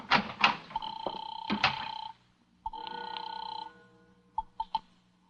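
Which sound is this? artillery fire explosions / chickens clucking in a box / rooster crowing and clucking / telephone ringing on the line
telephone ringing on the line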